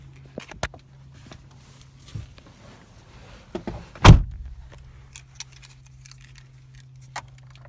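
A car door is unlocked and opened, heard as keys jangling, several small clicks, then one sharp, loud latch clunk near the middle, followed by a few faint clicks over a low steady hum.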